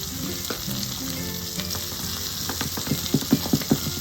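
Sliced onions with salt sauté in a pan left unwashed after searing steak, giving a soft continuous sizzle with a few louder clinks and stirring knocks near the end.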